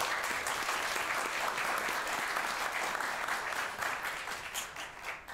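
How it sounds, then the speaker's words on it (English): Sustained applause from a conference audience at a fireside chat, dense close clapping throughout that begins to thin and fade near the end. "please a round of applause for Austin here."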